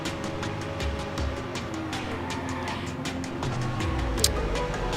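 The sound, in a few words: car driving in video game Watch Dogs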